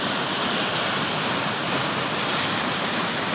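Water drops off the edge of a waterfall under a bridge on the New South Wales south coast, a loud, unbroken broadband roar that stays dense and steady throughout, with no voices over it.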